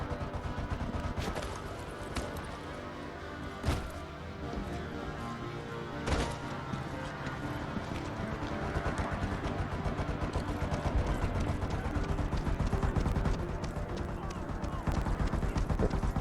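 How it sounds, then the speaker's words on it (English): A constant pounding audio glitch in the Homefront The Revolution video game, resembling gunfire, beats in a rapid, relentless rhythm with occasional sharper cracks, busy and continuous throughout. "that constant pounding. Sounds like gunfire, but it must be something"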